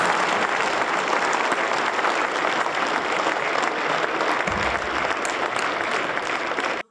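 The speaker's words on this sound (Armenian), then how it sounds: "Ես ուզում եմ մի հատ բոլոր տղամարդիկ ոտքի վրա ծափարենք մեծ կանանց։" Dense, sustained applause from a large audience at a political party's programme presentation in Armenia, steady and loud throughout before cutting off abruptly.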